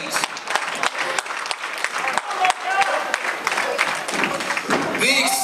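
A wrestling crowd cheers and applauds for Zane Stevens, dense clapping and shouting filling the arena throughout, with a commentator talking over the noise.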